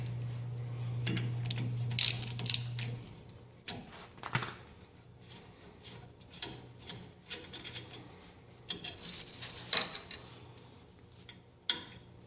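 A ratchet with a 12mm socket working the emergency brake line bolt off a 2013 Toyota Tacoma, heard as scattered metallic clicks and short ratcheting bursts at close range, with a brief steady hum at the start.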